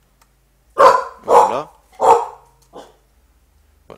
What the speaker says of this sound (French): Voilà, désolé pour les chiens.